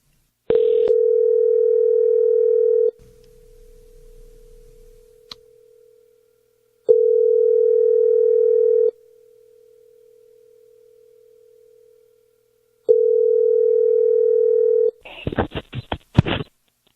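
Telephone tones on a call line: three long steady beeps, each about two seconds, separated by quiet gaps, followed by a burst of rapid clicking and rattling at the end.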